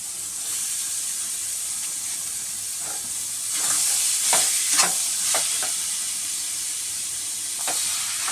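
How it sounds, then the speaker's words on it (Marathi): Soybean keema and pre-boiled peas sizzle steadily in a hot pan, a constant frying hiss with several sharper clattering scrapes and stirs in the middle, close and alone without talk. "आता मी इकडे हे सोयाबीनचा खिमा आणि वाटाणे थोडेसे आधी बॉईल करून घेतलेले ते आता मी यात घालून घेते."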